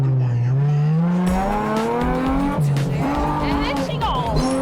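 A car drifts with tires squealing in long, sliding high-pitched tones over a steady engine roar that rises and falls throughout, loud and continuous.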